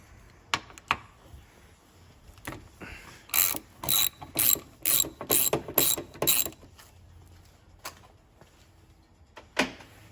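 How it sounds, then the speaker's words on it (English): A ratchet wrench clicks in quick bursts as a bolt is loosened and removed from an Audi car door, with sharp isolated clicks at the start and end and no talking. "So I'm just finishing off the bolt on the other side and take it out."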